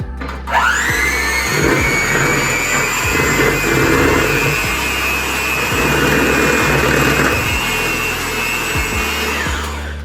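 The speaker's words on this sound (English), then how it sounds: "you're gonna take a whisk or a mixer and you're gonna mix it up" An electric mixer whirs loudly and steadily for about nine seconds while stirring yeast into milk, its motor starting abruptly with a rising whine and running alone at constant speed before slowing at the end.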